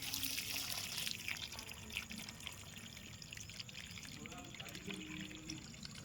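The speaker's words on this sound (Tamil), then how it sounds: "செடிக்கு தண்ணி விட்டுற வேலை" Water pours and trickles steadily in the open air while watering vegetable garden plants, with a low rumble and faint background noise running through.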